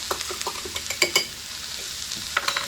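A fork stirs a cornstarch slurry in a small dish, giving quick, close clicks and scrapes in short bursts against a faint sizzling background.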